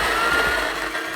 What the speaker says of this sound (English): let's regrind it coarser and see what difference we get